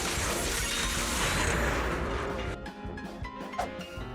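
A shatter effect in Zenless Zone Zero lands as a dense, loud crashing burst of broken-ice debris. It fades after a couple of seconds into scattered tinkling fragments and small impacts.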